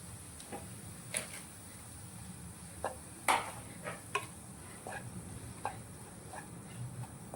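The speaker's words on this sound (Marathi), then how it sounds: "तर तो या तेलात छानसा परतून घ्यायचा" Mashed peas and potato being sautéed in oil with onion in a pan, heard as a faint, quiet stir with scattered light ticks and clicks from a spoon against the pan, and no voice.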